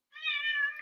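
A single clear meow, under a second long, fairly close and alone against silence.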